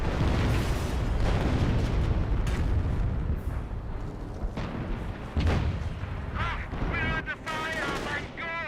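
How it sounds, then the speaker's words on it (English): Artillery shells landing in Company of Heroes, with heavy booms and crackling impacts piling up over a rumbling battlefield bed, dense and loud, with a few whistling, warbling tones near the end. "Got a bit of artillery raining in over here."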